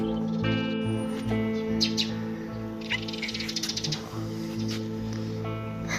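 A rescued baby sparrow, caught earlier by a cat, gives soft, faint chirps and quick tweets indoors over a steady low background hum, with a brief burst of rapid peeps in the middle.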